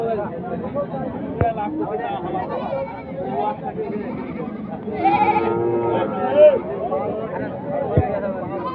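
Goats bleating at the Ambari livestock market, a loud close bleat standing out midway amid constant crowd chatter and voices talking nearby.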